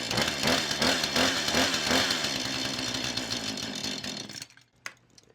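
A chainsaw that won't stay running, apparently fed only by primer fuel, roars loudly and steadily for about four seconds, then cuts out abruptly into quiet with a brief knock.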